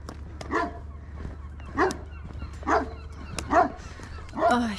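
A dog on a coastal walking route in northern Spain near Viveiro gives about five short barks or yips at roughly one-second intervals, moderately close over a low steady hum.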